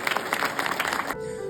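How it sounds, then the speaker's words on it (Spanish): A church congregation bursts into loud, continuous applause during a sermon, clapping densely for about a second before it cuts off abruptly, leaving a faint tone. "Denle un fuerte aplauso al Señor."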